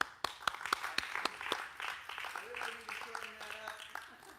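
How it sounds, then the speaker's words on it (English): Audience applause at a community gathering: a handful of distinct claps at first, then a soft patter that fades under someone speaking. "Another applause, please."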